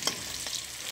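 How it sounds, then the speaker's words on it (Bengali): Onions with onion, chili, ginger and garlic paste fry in a pan, a close, steady sizzle broken by a couple of quick stirring taps before cutting off abruptly. "চলো লাল লাল করে একটু ভাজা করে নিয়ে আর কি আলুগুলো দিয়ে নামিয়ে নেব।"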